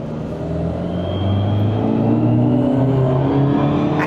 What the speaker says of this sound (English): Gonna engage the dyno eddy current brake, and then we're just gonna hold on.